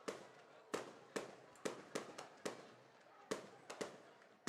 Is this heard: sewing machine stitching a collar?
no